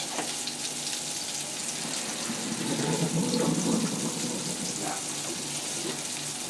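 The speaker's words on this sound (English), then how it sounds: "Drain the pasta." Pasta water pours steadily into a sink as pasta is drained, a hissing, splashing rush that swells slightly in the middle before settling.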